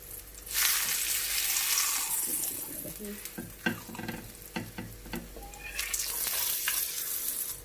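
Lachha paratha cooking in ghee on a medium flame, a loud sizzle broken by scraping and stirring strokes, a few sharp clatters of the spatula, then the sizzle steadying again.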